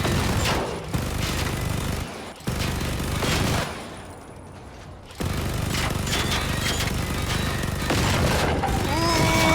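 Minigun roaring in the shooter game Generation Zero, a loud continuous mechanical burst of rapid fire that cuts out briefly twice, then resumes in a long sustained stream with scattered impact crackles.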